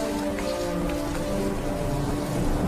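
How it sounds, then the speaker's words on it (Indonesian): Heavy rain hisses steadily in a cartoon storm scene, a dense broadband wash with a faint low rumble beneath, loud and continuous throughout. "Lalu turunlah hujan, datanglah badai dan banjir."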